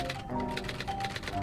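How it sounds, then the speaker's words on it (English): A typewriter clacks away in the video game 1954 Alcatraz, with quick, evenly spaced key strikes carrying steadily over soft background music tones. "How many weeks has he been typing?"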